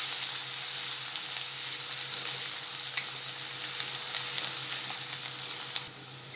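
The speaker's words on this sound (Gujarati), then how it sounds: "હવે કાંદાને થોડી વાર સાતળી લઈશું।" Chopped onion sautéing in a pan for mixed-lentil dal fry, a steady soft sizzle with faint crackles running throughout, close and unbroken, with no voices.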